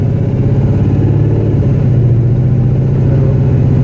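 A car engine fitted with a Holley carburetor runs steadily while driving after a power valve change for a flooding problem, a loud, continuous low rumble heard close up from inside with no talking.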